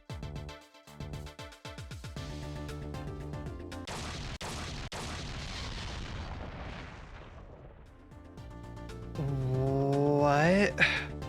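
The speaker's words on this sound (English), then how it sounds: "Think I heard an explosion somewhere." A game explosion in Ghost Trick: Phantom Detective: a broad, loud burst of noise that holds for several seconds amid game music, followed by rising musical tones.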